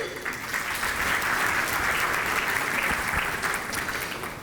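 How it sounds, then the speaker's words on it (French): An audience claps at the opening of a conference, a dense, steady round of applause filling the hall for the whole stretch without pause. "On l'applaudit."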